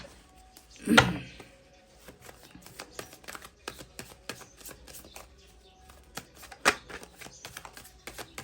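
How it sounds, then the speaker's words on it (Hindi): Tarot cards are pulled from a deck, producing soft repeated flicks and slides with one sharper rustle near the start, quiet and close. "चलिए गाइस, मैं यहाँ से निकाल रही हूँ 8 कार्ड्स।"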